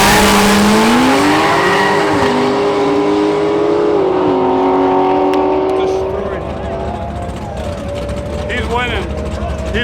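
Race cars in a small tire class street race roar past with rising and shifting engine pitch and a brief tire squeal, loud and close at first, then easing slightly.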